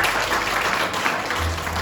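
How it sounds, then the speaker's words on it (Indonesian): A church congregation applauds during a service, a brief burst of dense, continuous clapping heard at steady moderate loudness with a low hum underneath. "Let's give Him a round of applause."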